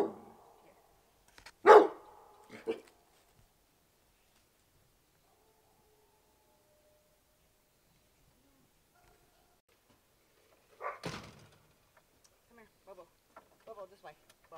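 A scared dog barking in two short bursts, a couple of sharp barks near the start and another around the middle, separated by quiet, with people talking faintly nearby.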